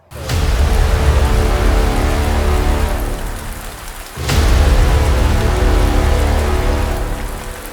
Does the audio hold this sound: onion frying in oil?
no